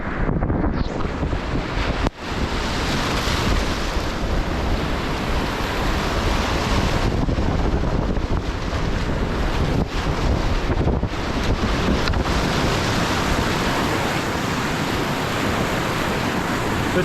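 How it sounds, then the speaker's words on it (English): Whitewater river rapids at a whitewater park, roaring waves and rushing water heard close up, loud and continuous, heavily buffeted by wind noise on the microphone, with no one speaking. "these are some nice little waves down through here"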